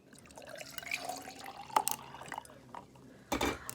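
Coffee poured into a cup over ice, a faint trickle and a few drips that grow briefly louder as the liquid splashes in near the end.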